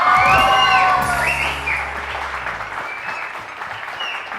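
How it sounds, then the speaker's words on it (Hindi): A studio audience on a TV magic show bursts into applause with a shouted whoop at the start, then the clapping gradually fades. "तालियां तो बजा दीजिए"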